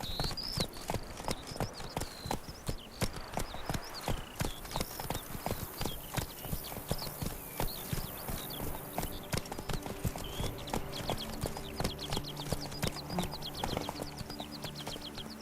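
Horse hooves clip-clop steadily at a brisk, even rhythm in The Witcher 3: Blood and Wine, loud and close throughout, with no talk over them.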